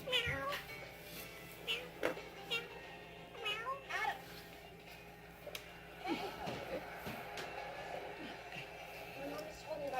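A grumpy cat meows several times indoors, short close calls spread across the stretch over a low background hum with some faint rustling and knocks.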